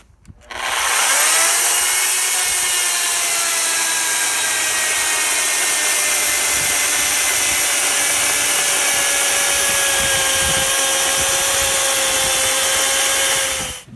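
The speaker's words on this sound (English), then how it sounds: "That's pretty impressive for an electric chainsaw. See if this chain will permit a bore cut." A loud, steady whine of an electric chainsaw making a bore cut into wood, running continuously for a long stretch with a constant high tone and gritty rasp.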